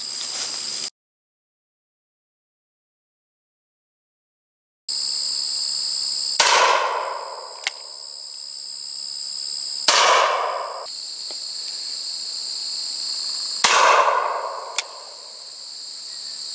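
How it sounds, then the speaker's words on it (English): A Rossi Circuit Judge revolver is fired outdoors in three sharp, loud reports spaced a few seconds apart, each with a ringing tail, over a steady high-pitched insect drone. "we are shooting the Rossi Circuit Judge"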